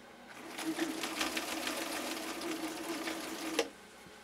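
A Viking 6370 sewing machine runs a steady stretch of stitching, its needle beating in a fast, even rhythm at close range, then stopping abruptly near the end.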